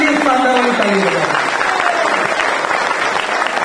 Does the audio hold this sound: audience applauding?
yes